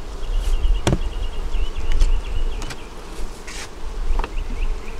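Honeybees buzzing around an overflowing double-deep beehive on a hot, still day, a dense continuous hum with individual insects whining past close to the listener.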